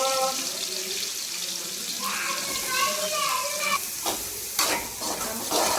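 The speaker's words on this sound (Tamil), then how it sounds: "எண்ணெய் வந்து அதே கறி பொரிச்ச சட்டிலே நம்ம ரைஸ் போட போகிறோம் வெங்காயம்" Chicken fried rice with onion frying in oil in a pan sizzles steadily while a utensil stirs and scrapes with occasional clatters, and a voice talks over the cooking.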